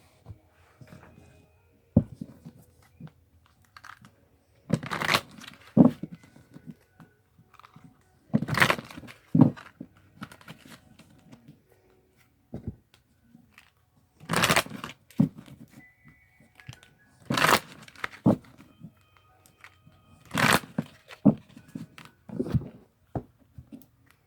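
Tarot cards shuffled by hand: intermittent close rustles, slaps and crisp snaps, loud bursts separated by quieter gaps over a long stretch, with no talk.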